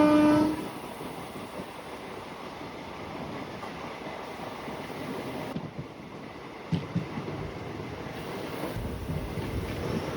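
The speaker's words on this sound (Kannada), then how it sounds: "ನಮ್ಮ ಟ್ರೈನು ಹೆವಿ ಸ್ಪೀಡಲ್ಲಿ ಬರ್ತಾ ಇತ್ತು ಇಷ್ಟೊತ್ತು." Kuvempu Express train running at speed on the Hassan–Mysuru route, a steady roaring rumble of wheels and wind heard from onboard, with a few brief clanks and shifts in the noise partway through.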